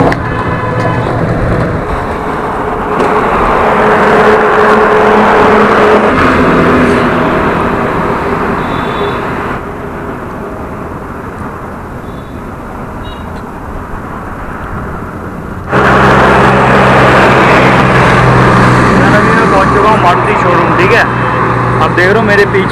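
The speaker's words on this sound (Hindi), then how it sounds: "सर अभी मैं बैठ गया हूँ रिक्शा में, अब जा रहे हैं फटाफट यहाँ से शहर नगर" An auto rickshaw rides through city traffic, its engine droning steadily with road rumble and passing vehicles. The noise shifts in level as it moves, and someone occasionally talks over it.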